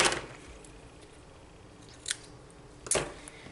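Scissors cutting paper for a handmade card box: after a quiet pause, two crisp, close snips follow each other in a row.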